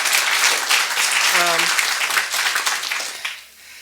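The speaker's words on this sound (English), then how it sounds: "So I think that deserves some applause." Audience applause at a writers' series talk on print journalism: sustained clapping from many hands filling the room, with a brief vocal sound partway through, before tapering off.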